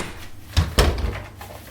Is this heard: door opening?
yes